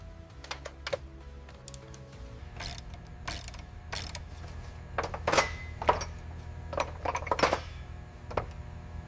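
Quiet ratchet clicks tighten bolts on the manifold of a Rolls-Royce Phantom under rebuild, with bursts of rapid pawl clicking in irregular runs against a low workshop hum.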